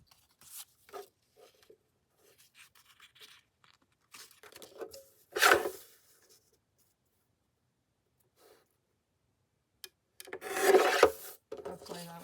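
Scissors or a blade cutting through paper or card in a few short bursts, scratchy rasping strokes close by separated by quiet gaps, the longest burst near the end.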